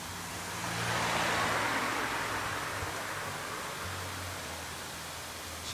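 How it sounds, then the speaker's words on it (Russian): Car passing on a city street in the evening in Belgrade, a soft broad road whoosh that rises and fades against steady faint outdoor traffic noise. "А сзади едет машина."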